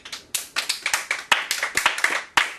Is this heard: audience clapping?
yes